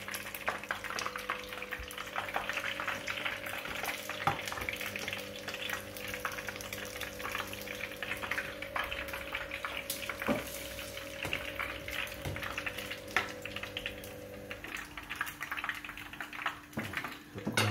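Pumpkin flowers coated in batter fry in hot oil, giving a steady, dense sizzle with crackling that holds throughout, and a low hum running beneath it.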